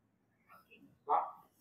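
A person imitates a dog bark, giving a couple of soft, short vocal yelps that end in one louder woof-like bark, heard close and quiet in a talk setting.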